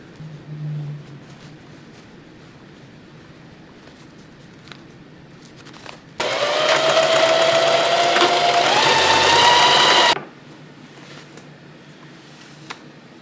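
A sewing machine stitches dress straps in one continuous loud run of about four seconds, with a rising whine, set between quieter stretches of room noise.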